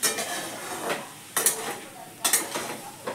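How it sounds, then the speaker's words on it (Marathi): Green bean bhaji is stirred in a pan with a spoon, producing three scraping clanks against the metal over a soft background sizzle, close by. "आता आपण झाकण काढूया आणि पुन्हा एकदा हे भाजी मिक्स करूया"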